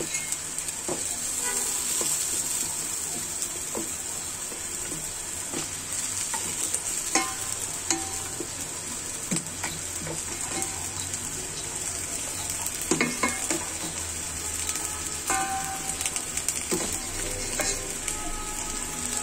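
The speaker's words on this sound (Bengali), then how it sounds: "এখন আমি এতে আমার মাংসটা ঢেলে দিব এবং মাংসটা কষিয়ে নিব ভালো করে" Beef sizzles loudly in a pan while being stirred for a raw jackfruit curry, with continuous frying hiss and repeated scraping clicks of the spoon, no talking.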